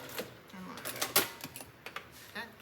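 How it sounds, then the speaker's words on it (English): A sewing machine stitches a fabric liner for a Longaberger road trip basket, giving short, irregular bursts of close mechanical clicking and tapping with brief pauses between them. "So I just sew as close as I can to it."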